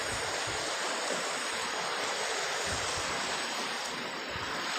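The upstream Kayan river rushes in a steady, close wash of flowing water with low rumbling churn and continuous hiss, without speech.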